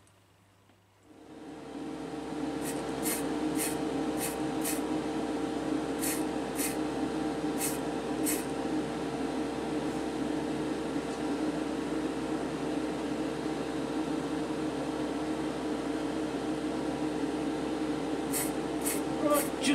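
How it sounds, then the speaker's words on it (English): A shaken spray can fitted with a spray gun attachment hisses steadily while painting the bodywork of a Tamiya Super Avante TD4 model car, starting after a brief quiet moment and continuing as one long, even spray with a few faint high ticks. "So I've shaken my can up. I've got my spray gun attachment."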